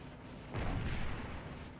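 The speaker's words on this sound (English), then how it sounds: "Ah, good. The cannons are firing." Cannon fire in the Scourge of War: Gettysburg battle game, a single dull, distant boom that swells and rolls out over about a second against a low steady background.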